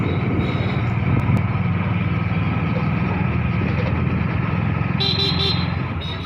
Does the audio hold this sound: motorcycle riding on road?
yes